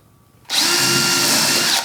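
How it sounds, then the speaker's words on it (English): A power drill bores holes through a board for mounting, starting abruptly after a quiet moment and running as a steady, loud whine for over a second before stopping. "We'll just drill a couple of holes through this thing and mount it."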